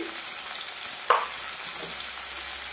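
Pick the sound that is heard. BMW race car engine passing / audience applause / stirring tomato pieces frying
stirring tomato pieces frying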